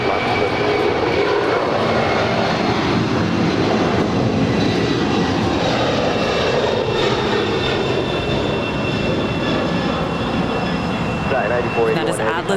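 Loud, steady roar of an Atlas Air cargo airliner's jet engines at LAX, a broad continuous rumble filling the whole stretch close by, with voices faintly mixed in underneath.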